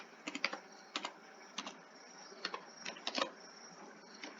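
Typing on a computer keyboard, close and quiet, in short irregular bursts of clicky keystrokes separated by brief pauses.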